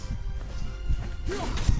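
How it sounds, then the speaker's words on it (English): The character in the video game God of War smashes objects, giving a few sharp crashing hits and thuds with a swish in between, close and fairly loud over a rumbling game background. "I love him just running around smashing everything."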